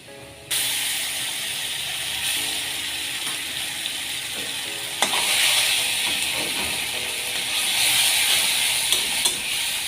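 Onions fry in a pan for masoor dal with a continuous loud sizzling hiss that starts abruptly and holds steady, broken by a few scraping and stirring knocks.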